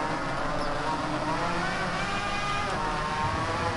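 Racing motorcycles in the video game Ride 2 drone steadily and loudly, engines held at high revs with a continuous whine through the whole stretch.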